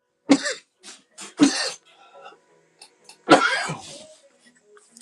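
A person coughing repeatedly, several harsh close coughs and throat clearings in irregular bursts over a few seconds.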